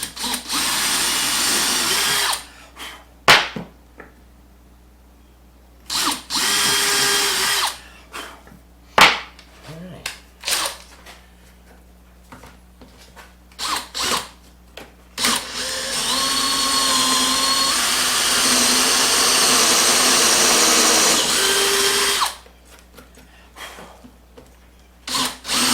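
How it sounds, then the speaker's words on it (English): A power drill bores a small pilot hole into wood for a Canadian goose whirligig, whirring in several short, loud bursts, then one long steady run, with quiet handling noises between. "Now I'm going to pre-drill it in a smaller pilot hole."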